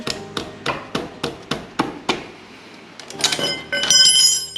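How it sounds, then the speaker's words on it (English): Metal wrench striking and loosening the oil filter on a 2024 Yamaha MT-07 motorcycle, about eight sharp ringing metallic knocks in steady rhythm, then a pause and louder clattering scrapes of metal. "You should not have to use a wrench."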